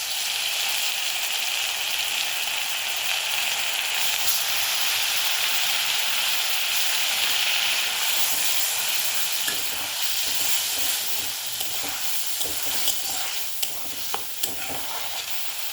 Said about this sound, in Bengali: এরপর এর মধ্যে দিয়ে দিলাম 2টো মাঝারি সাইজের পেঁয়াজ বাটা।